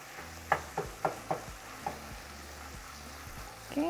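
Flour is stirred into hot fat in a pan for an enchilada sauce, a low sizzle broken by several distinct taps and scrapes of the utensil against the pan.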